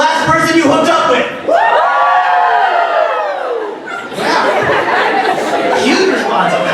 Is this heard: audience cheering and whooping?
yes